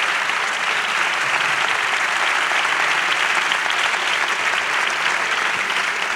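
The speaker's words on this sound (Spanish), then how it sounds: "Un aplauso para él." An audience at a Spanish congress on science and mysteries applauds a speaker, a loud, dense and even roar of clapping that fills the hall for about six seconds without a break.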